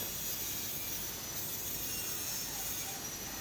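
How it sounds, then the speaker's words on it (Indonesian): A power drill bores into the bottom of a galvanized metal rain gutter, giving off a steady, fairly quiet high-pitched grinding whine that runs unbroken with no talking. "Dan ini kita bor bagian bawahnya para guys"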